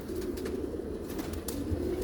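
Black-faced Sheikh pigeons coo close by in soft, rolling low calls that repeat throughout, with no talking.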